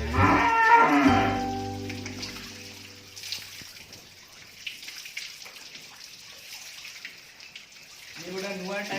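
Cows moo loudly and close by on a dairy farm, one long bellow in the opening two seconds and another starting near the end, with faint barn noise and quiet background voices between them.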